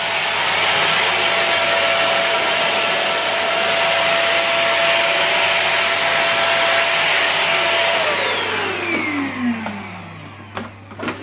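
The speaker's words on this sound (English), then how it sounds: "I'm going to show you how to hoover the floor with this gear for us to test it out." A Goodmans corded 2-in-1 vacuum cleaner runs loud and close with a steady high whine and broad airy roar, then its motor pitch drops as it switches off near the end, leaving faint clicks.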